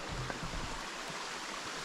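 Water of a small creek at Yost Run and Kyler Fork Falls flows steadily, a soft continuous low rush with faint splashes, fairly quiet and alone.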